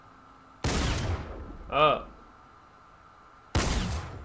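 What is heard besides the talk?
tactical shotgun firing in a video game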